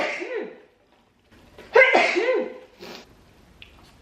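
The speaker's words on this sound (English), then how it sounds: "I'm gonna sneeze." A woman sneezes twice in quick succession, close and loud, with a short pause between the bursts and a quiet breathy sound trailing after; no words are spoken.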